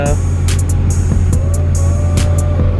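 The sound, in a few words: Acura Integra car driving on a test drive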